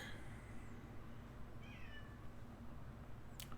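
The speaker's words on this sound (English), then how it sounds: "My cat is shrieking in the other room." A pet cat calls from another room, giving faint, drawn-out yowls at a distance, half buried under a low, steady background hum.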